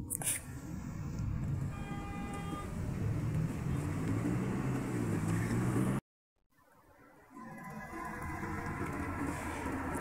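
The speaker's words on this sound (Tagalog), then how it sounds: "Traffic." Road traffic moving along a street in the Philippines, a steady broadband rumble of passing vehicles with a brief dropout partway through, and a voice talking over it.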